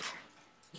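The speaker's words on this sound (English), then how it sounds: "excuse my dog barking" A dog barks a couple of times in quick bursts, fairly close and moderately loud, during a casual discussion of a UFC 141 fight, with a brief pause between the barks.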